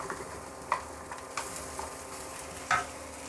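Green pea paste frying in spiced oil in a kadai sizzles softly, with a few sharp spatula clicks and scrapes as it is stirred, close and fairly quiet.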